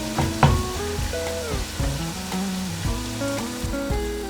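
Lamb kofta curry base sizzles in a pan while being stirred, a close, steady frying crackle with scraping bursts, and a tonal melody plays underneath.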